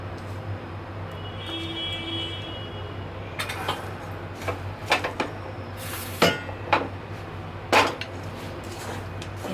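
Makhana and raisins being stirred in a pan for laddoo, with scattered metallic clinks and scrapes of a spoon against the pan over a steady low hum, no talking.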